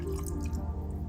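Rear differential oil from a BMW E60 M5 pours into a measuring jug with a steady liquid trickle and soft dripping, close and continuous under a low hum.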